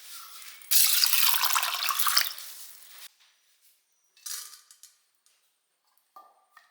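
Lentils soaked and rinsed in water for a snake gourd dal curry, a loud two-second splash of running water, then quiet with a few softer swishes and drips, close and without speech.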